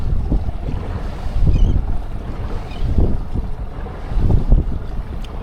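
A 2025 Tracker 195 boat accelerating across a choppy lake, with a loud steady engine roar, rushing wind buffeting the microphone and hull slaps from the waves surging in pulses, and no talking.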